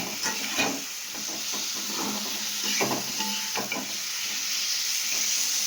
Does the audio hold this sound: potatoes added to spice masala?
yes